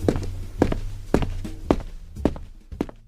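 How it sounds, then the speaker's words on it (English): Footsteps walking down a street, recreated as a movie sound effect: six firm, evenly spaced heel strikes with a dull thud, close and clear with no talking. "like footsteps walking down the street"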